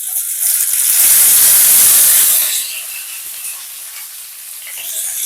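Chopped okra hits hot oil with tempered spices and bursts into a loud, bright sizzle that peaks for a couple of seconds, then settles into a steady, softer crackle of frying.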